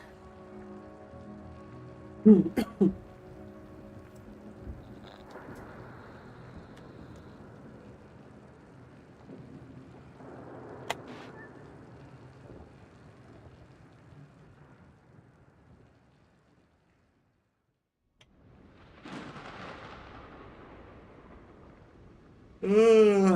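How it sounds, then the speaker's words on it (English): Raging rainstorm in the video game The Invincible: a steady wash of rain under low rumbling, with a couple of loud sharp cracks near the start, a brief near-silent gap, then the storm swelling again toward the end. "The storm's raging."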